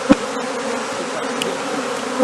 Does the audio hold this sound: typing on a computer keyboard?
no